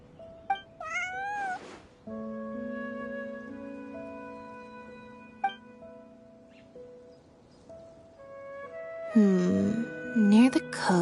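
A cat in a video game gives several rising, pitched meows, first briefly and then in a louder, longer caterwauling burst at the end, set against a sustained musical background score.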